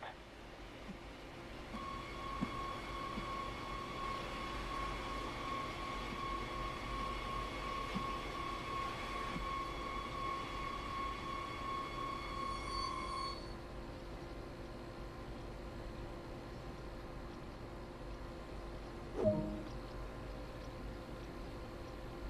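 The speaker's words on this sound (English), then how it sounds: "let's bring the train to a halt" An electric multiple unit commuter train in Train Sim World, on the Northeast Corridor near New York, brakes to a stop: a steady motor whine and rolling rumble, then the whine cuts out and a low hum remains, with a brief squeal near the end.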